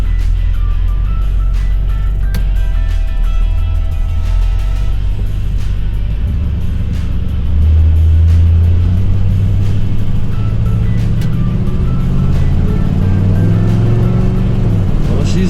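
A 1971 Buick Skylark engine on a test drive runs steadily, with a deep continuous rumble that swells as the car pulls harder partway through. No one speaks over it.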